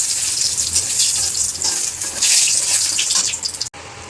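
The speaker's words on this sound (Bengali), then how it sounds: "তেল গরম হয়ে গেছে, শুকনো লঙ্কা তেজপাতা দিয়ে দেবো।" Dry red chillies and bay leaves hit hot oil in a kadai to temper dal, giving a loud, steady, close hiss that cuts off sharply just before the end.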